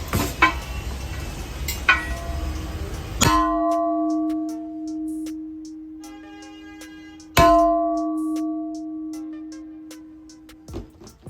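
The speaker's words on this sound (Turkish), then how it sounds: "orijinal jantlar bildiğiniz kilise çanı gibi ses verir" An original alloy car wheel rim is struck twice, each hit ringing out like a church bell with a long, clear sustain that slowly fades.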